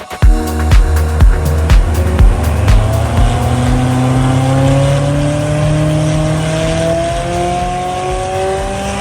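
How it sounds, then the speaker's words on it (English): A stock McLaren 570GT on a dyno during a baseline run, its engine note climbing steadily in pitch under sustained acceleration, loud and close with no talking. "we're going to get the car onto the dyno, do a baseline run just to make sure that the car's working as it should in stock form"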